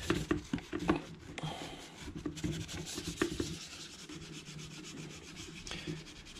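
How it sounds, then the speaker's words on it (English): Metal parts of an RC truck are scrubbed to remove surface rust, with close, quiet, irregular rubbing and scraping strokes and a few sharp clicks. "you just go and clean the surface out of them. And it's kind of taking most of the surface rust"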